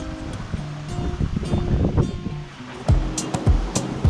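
A sailing yacht moves across open sea, with waves slapping and splashing against the hull amid gusty wind noise and a few sharper bursts of spray near the end.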